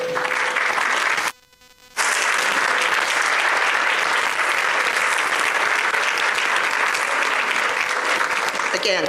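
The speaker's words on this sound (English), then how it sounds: "Please give all our sponsors a round of applause" Sustained audience applause for event sponsors at a voter-suppression talk, a dense steady wash of clapping filling the room that cuts out briefly near the start, then resumes and carries on evenly to the end.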